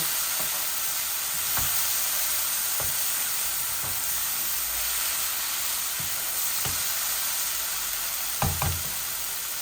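Potatoes and beans fry in oil in a pan, giving a steady, close sizzle throughout, with a few faint knocks and stirring taps scattered through it and no voices.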